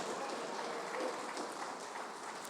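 A church congregation claps for the Lord during a worship service: a dense, continuous wash of hand claps mixed with voices, even in loudness throughout.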